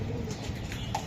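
Soft cooing of a racing pigeon at a club loft, low murmuring calls running continuously through a brief moment of steady background noise.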